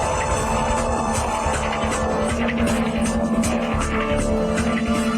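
Car driving along, heard as a steady, loud engine roar with faint tire hiss and some rhythmic accents mixed in, playing continuously without any speech.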